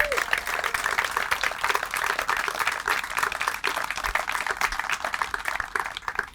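A sustained round of audience applause at a fire station and emergency operations center groundbreaking, steady dense clapping from a crowd outdoors, continuing at even loudness throughout.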